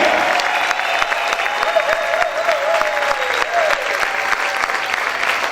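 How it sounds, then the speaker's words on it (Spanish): A church congregation in Ciudad Ojeda claps and cheers loudly for a sustained stretch, a dense wash of hands with a few voices rising over it. "¿Cuántos pueden gritar y aplaudir fuerte al Rey?"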